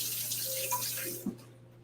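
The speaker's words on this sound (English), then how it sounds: "Let me just wash my hands." A tap runs steadily into a sink while hands are washed after cutting jackfruit, a close, even rush of water that cuts off abruptly near the end.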